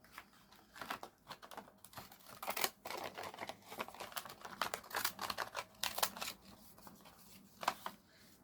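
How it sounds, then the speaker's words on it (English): Crisp snipping and rustling of paper as Fiskars decollage scissors cut repeatedly, close up and fairly quiet, in irregular bursts. "These are Fiskars decollage scissors."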